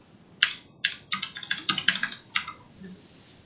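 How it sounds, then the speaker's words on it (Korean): Typing on a computer keyboard up close: a quick burst of about a dozen crisp key clicks in an uneven rhythm, with short pauses between small clusters, then stopping, no voices. "직접 타이핑한다고 해보겠습니다."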